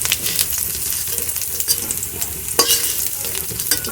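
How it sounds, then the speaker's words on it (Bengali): Cauliflower florets fry in hot oil for a samosa filling, a loud, close, continuous sizzle broken by a few sharp scrapes and clinks as the pieces are stirred and lifted out. "কপিগুলো তুলে নিচ্ছি, ভাজা হয়েই গেছে।"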